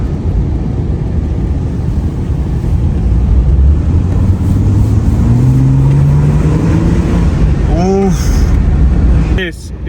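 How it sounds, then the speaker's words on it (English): A 2002 Ford Falcon AU drift car spins its wheels on wet ground, its engine roaring loud and close in a steady drone with a rising pitch sweep, then revving sharply near the end. "I know it's wet and it's spinning the wheels"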